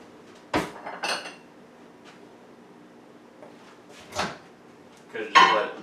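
Kitchenware handled in a home kitchen: a few separate clinks and knocks of a bowl and utensils, close and moderately loud, with quiet gaps between them.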